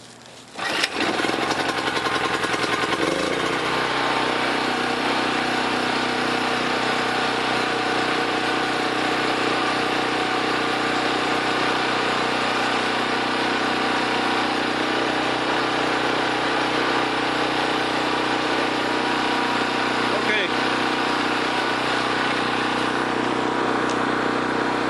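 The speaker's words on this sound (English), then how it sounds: "If that generator were under load and the engine is surging like that" Harbor Freight 4000 watt generator engine starts and runs unloaded, a loud steady droning mechanical hum that holds for the whole stretch with no talking.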